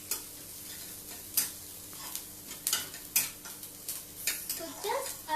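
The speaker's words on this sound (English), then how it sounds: "So just a little bit saute, and we will add our chopped tomato." Garlic sautés in a pan while a utensil stirs it, giving irregular clinks and scrapes over a soft sizzle, fairly close and without talk.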